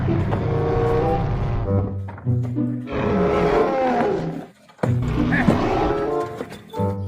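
Loud, sustained game-creature roars from a triceratops in the video game Jurassic World Evolution 2, three long bellowing roars separated by brief gaps, close and dominant with no talk over them.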